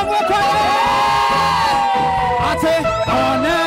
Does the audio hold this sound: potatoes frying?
no